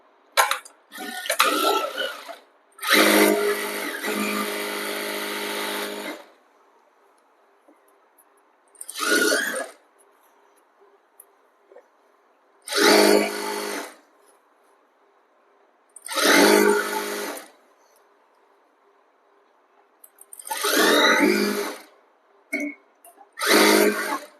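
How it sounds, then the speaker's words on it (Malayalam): A sewing machine stitches the seams of a panel-cut kurti in several separate runs of whirring, each lasting a second or a few seconds, with quiet pauses between them. "ഇതേപോലെ ഒപ്പം വെച്ചിട്ട് സ്റ്റിച്ച് ചെയ്യാം."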